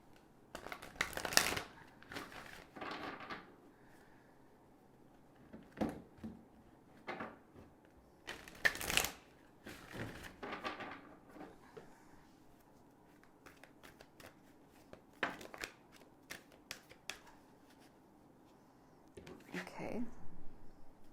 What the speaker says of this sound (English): So let's pull a few more cards here for you guys